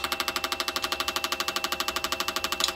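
A fuel injector cleaning and flow test machine runs idle-speed injector pulses for a Jaguar XJ-SC, producing a rapid, even ticking pulse of about ten clicks per second, close and steady throughout.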